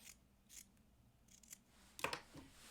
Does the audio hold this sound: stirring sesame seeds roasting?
no